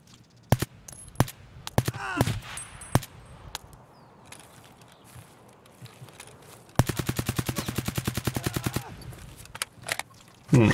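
Gunfire in Escape From Tarkov, with scattered single shots and short bursts early on, then a long rapid automatic burst of about two seconds, followed by a few more isolated cracks, all fairly near and loud.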